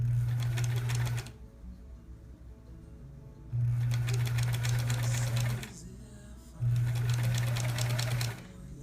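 Sewing machine stitching a scant quarter-inch quilt seam for a sampler quilt block, running in three bursts of steady rapid whirring separated by short pauses, close and loud with faint background sounds.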